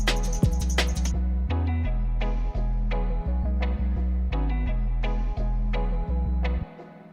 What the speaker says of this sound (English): let me just quickly show you the cheesy organ thing I've done as well